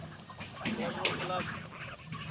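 Large, improved-breed Raja hash ducks on a duck farm give honking quacks, close by, mixed with people talking.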